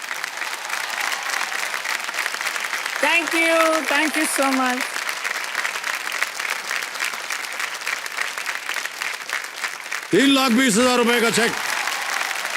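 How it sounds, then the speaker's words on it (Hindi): A studio audience on the KBC game show bursts into steady, loud applause that runs throughout, with a host and guest speaking briefly over it. "तालियां बज जानी चाहिए जोरदार"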